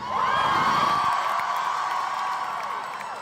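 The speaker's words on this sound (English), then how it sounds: "we'd just like to acknowledge how massive this crowd is, everyone!" A massive crowd of young people roars and whoops at a school climate strike rally in Melbourne, a loud, sustained cheer that fades slightly toward the end.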